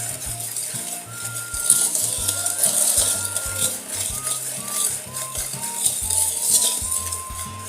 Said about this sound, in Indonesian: Diaduk dulu supaya Nutrijelnya cepat merata.